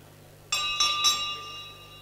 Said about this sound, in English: So that is the first bell, ladies and gentlemen.